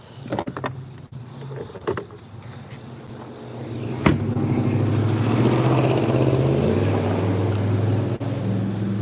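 A car drives by outside, starting with a few clunks and taps, then a loud, steady engine rumble that swells over several seconds and holds close.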